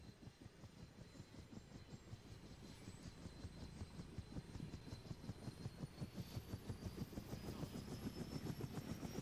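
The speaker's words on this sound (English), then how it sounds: "This helicopter sounds like it's about to shoot itself down." Helicopter in flight heard from inside the cabin, its rotor thumping in a steady rapid rhythm over a constant droning whine, loud and close throughout with no talk.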